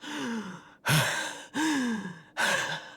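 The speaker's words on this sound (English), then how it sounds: "Oh my gosh, she has such a heavy breathing." A female video game character breathes heavily in a series of four deep, drawn-out sighing gasps, each loud and close, separated by short silent pauses.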